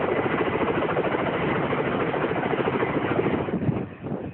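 Kamov contra-rotating helicopter aboard the aircraft carrier INS Vikramaditya, a loud, continuous rotor and engine roar with a dense throbbing texture, close by, easing slightly near the end.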